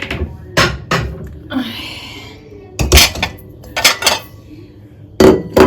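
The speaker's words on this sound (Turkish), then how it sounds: "Tabak çıkarayım da." Ceramic plates and dishes clinking and knocking as a plate is taken out in a home kitchen, several sharp, close clatters in irregular bursts with quiet gaps between them.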